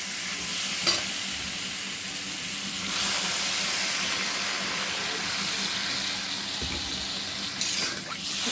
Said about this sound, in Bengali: সামান্য একটু জল দিয়ে দিচ্ছি জল দিয়ে ভালো করে কষিয়ে নিচ্ছি